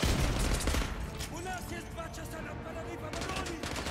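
Heavy automatic gunfire from Call of Duty Modern Warfare 2 Remastered, loud and sustained with dense rapid bursts, beneath a player's speech.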